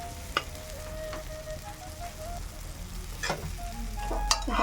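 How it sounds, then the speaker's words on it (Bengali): Spices fry in oil in a wok with a steady sizzle, broken by a few sharp scraping taps as they are stirred, close and fairly loud, with no speech. "আমার মশলা কষানো হয়ে গেছে কড়াতে লেগে যাচ্ছে তেলও ছেড়ে দিয়েছে"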